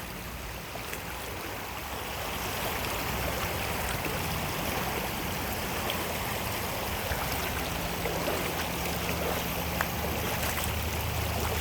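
Rushing water pours steadily through a rocky river rapids, a loud, continuous broadband roar that holds without pause close to the listener, with no voices over it.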